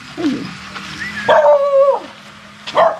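A dog barks and yips a few times, with a drawn-out whining yelp in the middle, close and fairly loud, no one speaking.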